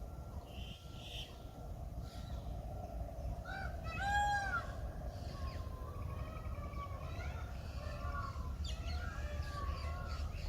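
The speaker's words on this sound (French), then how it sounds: "C'est des oiseaux, hein." Birds call among gigantic trees at the ancient sacred city of Anuradhapura in Sri Lanka, with several warbling, whistled phrases rising over a steady low ambient rumble, moderately near.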